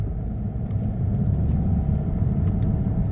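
A Peugeot 508 2.2 HDI pulls away under acceleration on a test drive, its engine a steady, heavy low rumble heard from inside the cabin, with no voices.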